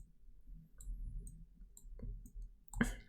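A single short mouse click confirming OK in SolidWorks, sharp and close near the end, after a quiet stretch with faint low background hum.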